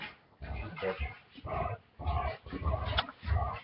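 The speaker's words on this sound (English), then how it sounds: "my dog has gone crazy" A dog barks repeatedly in a quick uneven series of rough, muffled woofs, fairly faint and somewhat distant, with short pauses between bursts.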